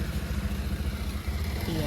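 An old motorcycle engine with tappet noise runs close by, a low rhythmic mechanical chugging with a steady pulse, while people talk over it.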